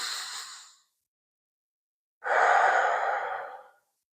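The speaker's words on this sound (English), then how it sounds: "We'll end the practice with a deep cleansing breath in and out." A slow, deep cleansing breath at the close of a power yoga vinyasa practice: a short exhale tail, a pause of near silence, then one long, clear breath lasting over a second, close and alone with no talk.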